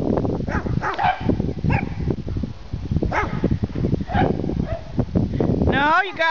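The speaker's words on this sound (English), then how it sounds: "Luma, quit barking at me." A dog barks and yips excitedly several times while a person talks over it nearby.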